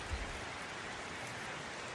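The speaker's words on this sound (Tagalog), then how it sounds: "Lakas ng ulan. Narinig, narinig nyo yung ulan." Steady, dense rain hiss, constant and even throughout, with no voices over it.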